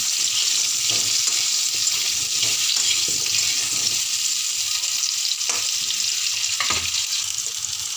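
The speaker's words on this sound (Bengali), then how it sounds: "আলুগুলো লাল লাল করে ভেজে নিতে হবে।" Steady loud sizzling of cut potatoes frying in hot oil in a wok, with occasional scrapes and stirring clicks, continuous throughout.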